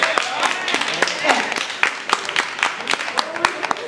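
An audience at a poetry event claps in scattered, uneven bursts, individual hand claps standing out while people talk over it.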